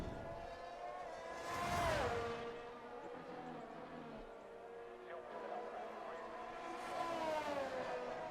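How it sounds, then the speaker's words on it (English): A Formula 1 V6 hybrid car engine in a racing video game, at the British Grand Prix, whines past in high, rising-and-falling revs, with two louder swells as cars pass, while a voice commentates over it. "so I can hear the crisp V6 hybrid"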